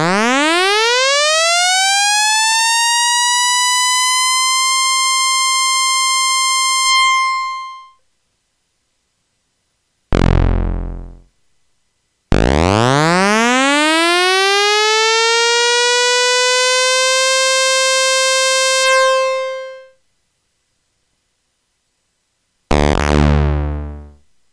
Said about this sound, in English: If you do a portamento slide, just before it reaches the final note, it suddenly jumps.